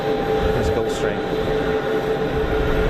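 A Swiss-registered Gulfstream G550 business jet at Geneva Airport gives off a steady, loud engine roar with a faint whine running through it, unbroken from start to finish.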